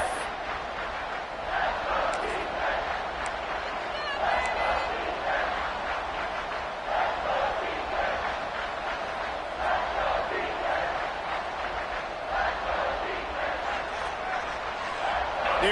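College football stadium crowd at a Missouri vs Texas Tech game, a broad, steady roar of many voices with rising surges of cheering throughout, heard at a distance.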